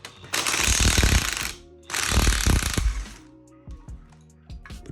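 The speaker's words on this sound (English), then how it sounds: "We're gonna try to impact these off after soaking them in PB for like 30 minutes." Impact wrench on a 13 mm socket and extension hammering at rusted exhaust bolts on a B7 Audi A4 Quattro, two loud rattling bursts about a second each, followed by clinks and small mechanical knocks.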